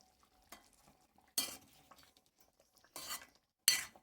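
Gram flour curry being stirred in a pot, with four or five separate scraping, clattering strokes of a spoon against metal over near silence, close and fairly quiet.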